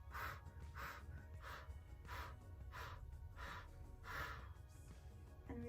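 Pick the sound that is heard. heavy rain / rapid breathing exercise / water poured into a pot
rapid breathing exercise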